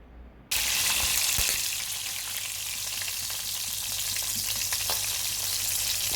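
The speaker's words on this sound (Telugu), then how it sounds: "ఆయిల్ బాగా వేడెక్కిన తర్వాత పచ్చిమిర్చి వేసుకోవాలి." Green chillies drop into well-heated cooking oil: after a brief quiet moment, a loud, dense sizzle bursts in and holds steady, with a few faint clicks of stirring underneath.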